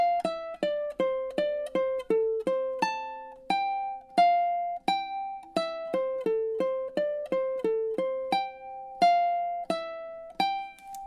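A ukulele picks the melody line in a steady stream of clear plucked single notes, some quick runs and some longer held tones, close and alone without voices.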